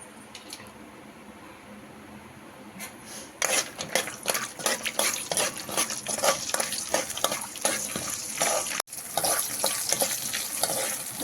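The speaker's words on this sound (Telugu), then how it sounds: "కాజు ఫ్రై చేసుకుంటాను" Cashews fry in a pan for a sago payasam sweet, starting quietly and then turning into a busy sizzle with rapid stirring and scraping strokes, close and loud, with a brief break near the end.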